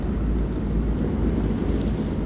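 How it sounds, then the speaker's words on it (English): A steady, loud rumble of storm rain and low thunder-like roar from a thunderstorm in the Man of Medan video game, continuous throughout with no speech. "Find out how long the storm is gonna last."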